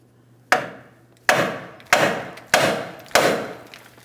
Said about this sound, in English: We're going to tap on the knuckle in this area, causing vibration